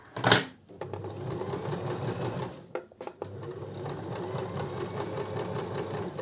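A sewing machine runs a steady, continuous stitching line along a seam in cocktail-dress fabric, close and fairly loud, pausing briefly midway before resuming.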